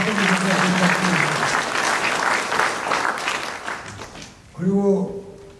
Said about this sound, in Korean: 여러분 뜨거운 박수를 하고